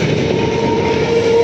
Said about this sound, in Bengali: ট্রেন যাচ্ছে দেখো কত পাশ থেকে